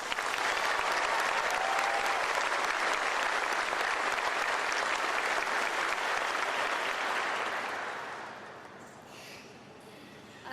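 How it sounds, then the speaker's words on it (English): Steady, dense audience applause at a speaking event, loud and sustained for about eight seconds before tapering off into quiet. "Let's give her another round of applause"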